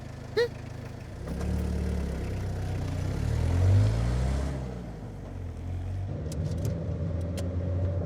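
A car engine hums low and steady nearby, swelling as the vehicle moves off and passes, then settling back to a quieter rumble, with no talk over it.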